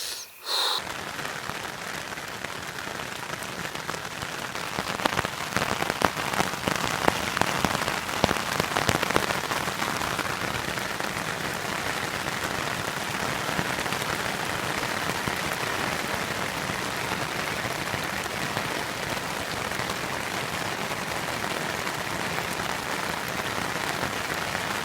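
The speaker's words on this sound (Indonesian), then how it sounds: "Setelah semalam terserang hujan." Steady rain patters on a tarp tent at night during Indonesian bushcraft camping, a dense continuous hiss with sharper drop hits early on, close and loud throughout with no talk.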